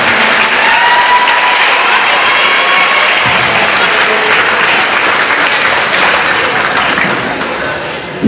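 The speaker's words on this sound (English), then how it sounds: "Let's give you girls a big round of applause." A crowd at a girls' varsity basketball game applauds in a dense, sustained wash of clapping and some cheering that holds steady for the whole stretch, loud and close.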